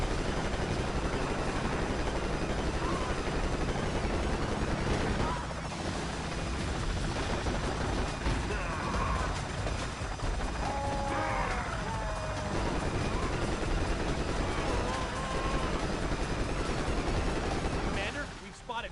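Viper helicopters churn through a Pursuit Force video game firefight, their rotor drone buried under steady machine-gun bursts and blasts that run loud and continuous for nearly twenty seconds, with brief whistling tones rising now and then.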